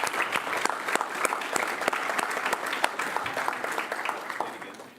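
At a school board meeting, people in the room give volunteers a round of applause, a moderate spread of individual claps at medium distance that fades toward the end.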